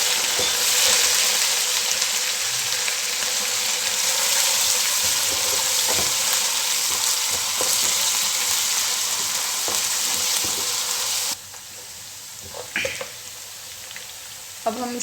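Sliced onions sizzling and frying in oil with garlic ginger paste for chicken biryani, a loud steady hiss with stirring scrapes that drops sharply near the end to faint clatter.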